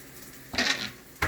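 A metal lid set down on a pan of frying plantains gives a short bright clatter, and a second quick clink follows a moment later, with a faint sizzle underneath.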